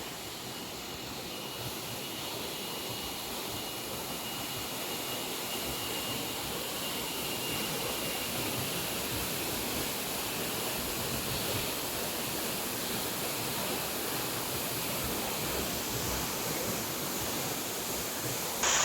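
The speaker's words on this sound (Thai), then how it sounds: "สวยงามมาก น้ำตกแรงสุด" Powerful waterfall deep in a Thai forest, a dense, continuous roar of falling water, loud and steady throughout, with no talk.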